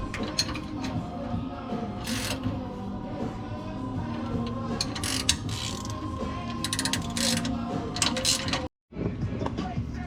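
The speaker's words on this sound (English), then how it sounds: "Let's go ahead and tighten her on up." A ratchet wrench tightens bolts on a vehicle's driveline during a pinion angle correction, giving repeated clicking bursts amid workshop clatter, with a brief dropout near the end.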